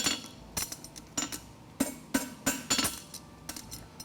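Hammer strikes flattening the branches of a TS8 Delta Challenger rolled rocker horseshoe on an anvil while forging, a dozen sharp metallic blows at an irregular pace with ringing clinks between them and no talking.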